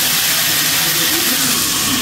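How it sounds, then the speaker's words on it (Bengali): Water poured into a pan of fish curry sets off a steady, loud steamy hiss and sizzle that carries on unbroken for the whole stretch, with no talking over it. "তরকারিটা বসানো হয়ে গেছে গা, আমি একটু জল দিয়ে দেবো।"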